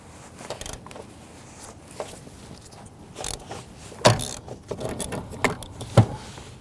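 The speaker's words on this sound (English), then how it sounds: "Now we're using our 16mm socket on our ratchet." A ratchet fitted with a 16mm socket works a bolt loose on a 2011-2017 Nissan Quest during fuel pump module replacement, giving irregular close metallic clicks and clanks with a few sharper knocks over a quiet background.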